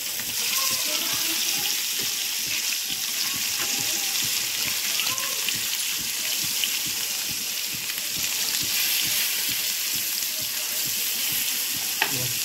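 Fish frying in a hot pan, a steady dense sizzle and crackle that runs loud and continuous throughout, with occasional faint stirring and handling sounds mixed in.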